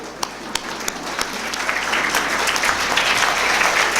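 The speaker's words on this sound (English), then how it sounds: "Give him an applause." An audience applauds a birthday boy: a few scattered claps at first, then dense, steady clapping from a large crowd that grows louder.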